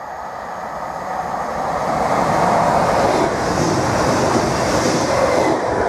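A train passes through Needham Market station at speed, a broad, steady roar of wheels and rail noise that swells over the first two seconds and holds loud throughout, with no voices.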